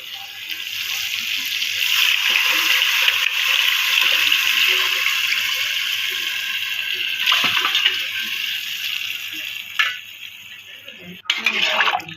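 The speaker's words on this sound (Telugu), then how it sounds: "దీంట్లో కొంచెం నీళ్ళు వాటర్ వేసుకొని తిప్పి పోసేద్దాం" Water runs steadily into a cooking pot of tomato and mango pieces for fish curry for several seconds, followed by a few metal clinks and knocks near the end.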